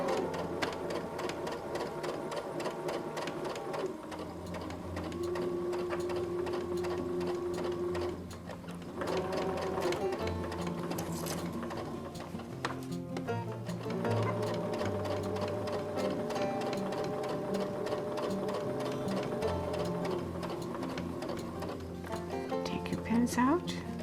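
A sewing machine stitches a seam on a fabric mask in quick whirring bursts with short pauses between runs, close and clear, while a person talks quietly over it.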